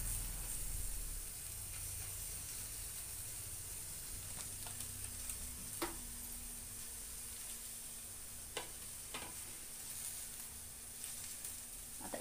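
A Konkan-style ghawane rice crepe, the traditional seven-layer kind, cooks on a hot pan with a faint, even sizzling hiss and a few light clicks and taps throughout.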